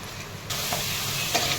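Finely chopped garlic, ginger and green chili hit a pan of frying onion, and a loud, steady sizzle swells sharply after a brief softer start, with faint stirring scrapes.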